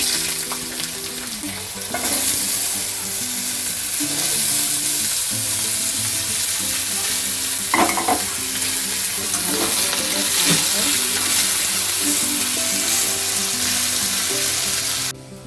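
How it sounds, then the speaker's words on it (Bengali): Potatoes fry in a little oil in a pan for ghugni, a loud continuous close sizzle with stirring scrapes and a low tonal hum running underneath, no voices. "আলুটা ভাজা ভাজা হয়ে গেছে"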